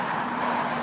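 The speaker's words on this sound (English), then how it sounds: "there's loads of cars" Steady roadside traffic noise from many cars on a UK road, a continuous rumbling wash of passing vehicles, fairly loud and close, with no single car standing out.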